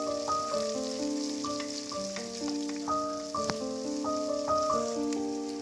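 Onion and garlic sauté in a pan for moringa leaf thoran, giving a soft, steady sizzle beneath melodic background music.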